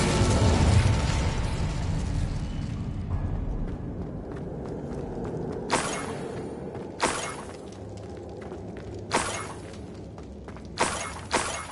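Incendio fire spell blasts cast in Hogwarts Legacy, a sustained roaring whoosh at first, then four or five sharp bursts spaced a second or two apart, moderately loud with no talk.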